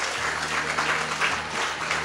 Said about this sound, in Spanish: Alguien denle un aplauso a Jesús.